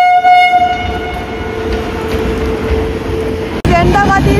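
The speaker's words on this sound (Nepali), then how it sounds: "अर्को साइडको ट्रेन आइरह जो कि हाम्रो होइन" A train passes close by at a railway station, a loud continuous rumble with horn-like tones at the start and a sharp clatter near the end.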